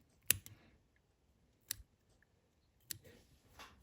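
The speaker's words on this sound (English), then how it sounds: "I'm going to cut off that excess feather" Scissors trim the excess feather while a Yellow Foxy Streamer fly is tied: three crisp, quiet snips spaced about a second apart, with near silence between them.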